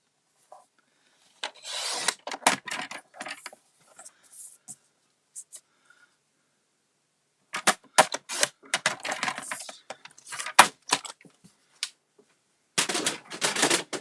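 A thin sheet of white paper is cut down to size for the inside of a handmade Halloween card, giving clusters of crisp rasping cuts separated by quiet pauses.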